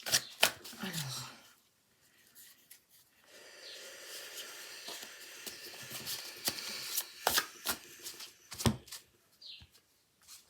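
French oracle cards being shuffled by hand, giving bursts of riffling and rubbing card noise separated by short pauses, close and fairly quiet with a voice speaking at times.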